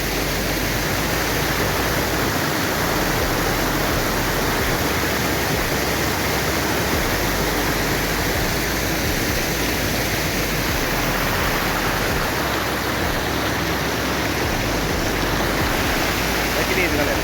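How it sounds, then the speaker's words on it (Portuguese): A waterfall nearby gives off a loud, steady, broadband roar of rushing water that continues unbroken from start to finish. "A cachoeira tá aqui em cima, ó."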